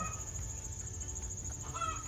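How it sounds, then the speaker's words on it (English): Faint chickens dust-bathing cluck softly at a distance over a constant background hum and insect-like buzz. "Got some chickens doing a dust bath over there."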